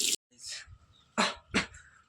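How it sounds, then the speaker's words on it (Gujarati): A person coughs three times in short, sharp, close bursts separated by pauses, with faint breathy sounds between them. "ઉધરસ થઈ ગઈ"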